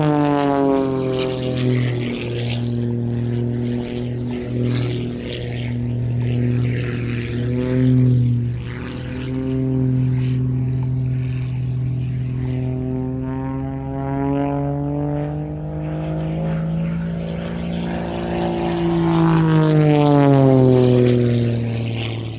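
Propeller aerobatic display aircraft performing at the Cosford Airshow, its engine droning loudly and continuously with pitch rising and falling as it passes and manoeuvres, swelling louder near the end, with no talk heard.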